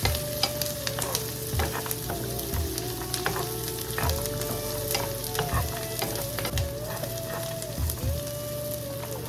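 Dried beef frying in a pan, a loud continuous sizzle with repeated stirring scrapes and clicks at a steady pace, close up and without talk.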